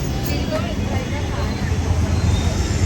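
A crowded shopping street in Dombivli gives off a constant wash of crowd babble and traffic noise, with voices and vehicles blending close around the listener.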